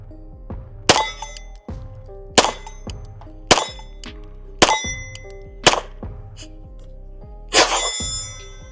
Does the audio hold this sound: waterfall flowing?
no